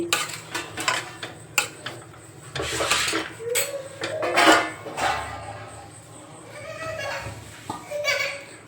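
A spoon scrapes and clinks against a pot while a sweet cooking mixture for amrut pak is stirred at home, with irregular metallic knocks and scrapes over someone talking.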